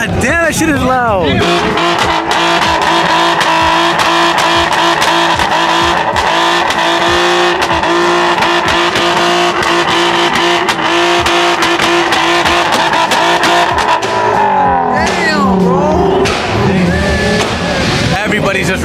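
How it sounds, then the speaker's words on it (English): Loud engines of Japanese-market cars revving continuously from several vehicles near and far at a car meet, with shouting voices over the roar. "Everybody's just revving at this point"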